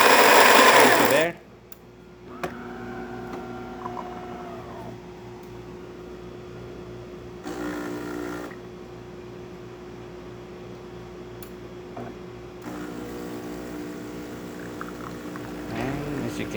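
A DeLonghi espresso machine pulling a test shot after a full service and tune-up. Its pump drones steadily throughout, after a loud burst at the start, and swells briefly mid-shot and again near the end.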